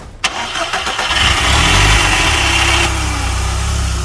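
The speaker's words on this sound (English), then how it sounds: "Now we are going to turn it on just to hear how it sounds." A Volkswagen Golf 1.4 engine cranks and catches, revving briefly before settling into a loud, steady idle rumble close by.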